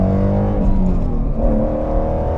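A 2017 Shelby GT350 engine droning steadily while driving, a loud close mechanical hum with slight pitch shifts as the revs rise and fall, no talk over it.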